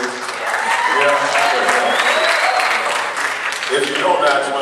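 Audience clapping at a high school spring concert, a broad wash of applause with a voice speaking over it, steady and fairly loud.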